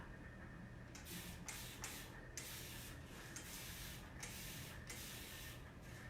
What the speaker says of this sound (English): I'm just spraying it all over this way.